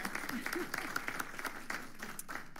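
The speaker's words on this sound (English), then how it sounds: "Can we have a round of applause for these guys?" Audience at a Fountain Valley Chamber of Commerce candidate forum applauds the candidates, a moderate, steady patter of clapping from a modest crowd with some faint voices mixed in.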